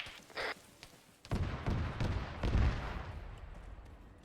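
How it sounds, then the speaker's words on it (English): Demolition charges detonating during military squad training in a video game, a muffled low rumble of blasts rolling in after a short sharp pop, moderately distant and fairly quiet. "Blow all your demos."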